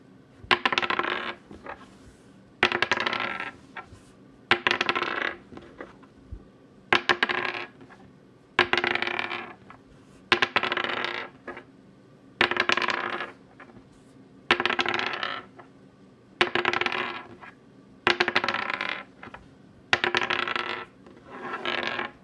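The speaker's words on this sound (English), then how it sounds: "typically I do notice the Teflon dice stops rolling half a second to a second before my baseline dice, and it usually has less travel" Teflon-coated dice and plain baseline dice are rolled again and again on a hard surface, each throw a clattering burst of tumbling rattles that dies away, repeating at a regular pace about every two seconds with no talk.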